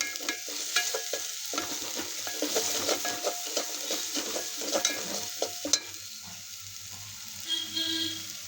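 Ground coriander, red chili powder and black masala sautéing in oil in a pan for chole, a continuous sizzle with frequent scraping and clinking stirs, fading to a softer fry near the end, no voices.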